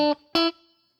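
Electric guitar riff, two bright, twangy plucked notes placed between the beats, the second ringing out and fading, clean and close with no talk.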